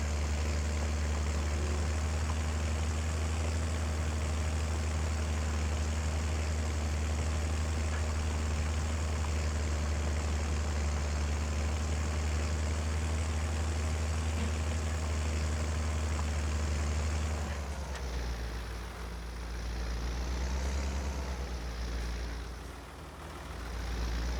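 Tractor engine idling in the Farming Simulator 25 video game, a steady low diesel rumble holding for most of the stretch before the tone shifts and wavers near the end, with no talk over it.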